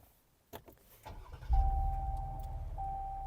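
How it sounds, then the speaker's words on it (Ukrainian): A few clicks, then a Jeep Cherokee 3.2 six-cylinder engine cranks and starts, settling into a deep, steady idle exhaust rumble close by while a thin electronic chime tone sounds. "в нас взагалі зовсім інший звук вихлопної системи, бо в нашому випадку аж 6 циліндрів"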